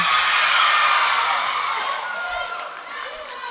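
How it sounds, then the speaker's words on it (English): A crowd at a women's varsity netball match, Salford against Chester, in a sports hall roars and cheers in a broad, sustained wash that gradually eases, with a commentator's voice over it. "Really, really loud cheers, though, coming from both sides of the crowd"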